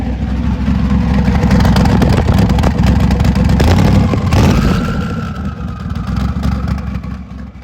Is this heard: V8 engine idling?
yes